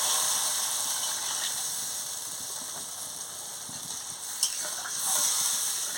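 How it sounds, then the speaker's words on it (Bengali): Water goes into a pan of simmering rohu fish curry, making a steady, close hiss and sizzle that swells slightly near the end, with a faint clink partway through. "এবার আমি জল দিয়ে দিচ্ছি"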